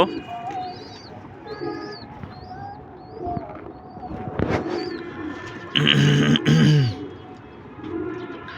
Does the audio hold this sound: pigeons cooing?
yes